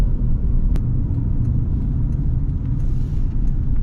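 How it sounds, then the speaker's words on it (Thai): A car drives along Highway 406 from Hat Yai airport toward Satun in southern Thailand, giving a steady, close low engine and tyre rumble throughout with no talk. "ดี๋ยวเราขับรถต่อไปกันนะครับ"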